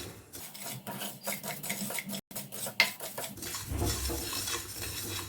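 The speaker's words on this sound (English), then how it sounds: "You need to roast the black sesame seed in a kadhai" Black sesame seeds roast in a kadhai on medium flame, with repeated rhythmic scraping strokes of a metal spoon, a brief drop-out, then a louder sizzling rustle.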